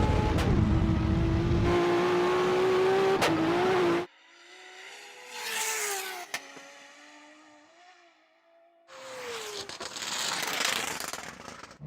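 A McLaren Senna and a 1200 hp Lexus launch with wheels spinning, a loud engine howl cutting off into quieter revving, tire noise and a distant car passing, then another loud burst of engine and rushing noise.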